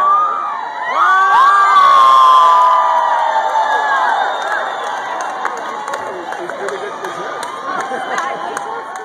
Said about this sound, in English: as you'll hear, the crowd loves it.